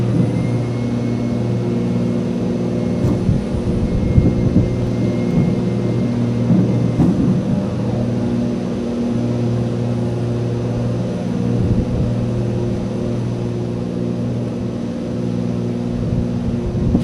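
Steady, continuous aircraft engine drone in X-Plane 11 just after takeoff, flying a Norway tour route from ENNA to ENKA, with a loud, even hum and strong low tones holding throughout, no talking.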